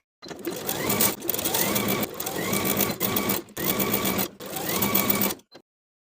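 A sewing machine edge-stitches the folded casing of a pajama waistband, running close and loud in several steady bursts separated by brief pauses, then stopping.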